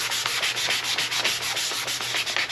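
A BMW X5 E70 headlight lens is hand-sanded with 320 grit sandpaper, producing close, rhythmic back-and-forth scratchy rubbing strokes at a brisk, even pace.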